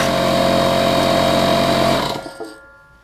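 An impact wrench loosens a 17 mm steering stem lock nut on a Suzuki LT250R quad, a loud continuous whirring hammer for about two seconds that cuts off and fades with a faint clatter.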